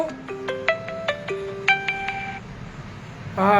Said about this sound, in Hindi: मुझे फोन आ रहा था, मैंने उसको डिस्कनेक्ट कर दिया